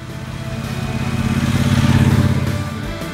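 Triumph Bonneville Speedmaster cruiser motorcycle engine running nearby with a deep, throbbing idle that swells in a gentle rev before settling, loud and alone.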